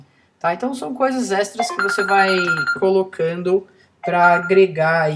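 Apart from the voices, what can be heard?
telephone ringing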